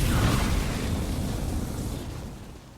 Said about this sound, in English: Firing incendiary.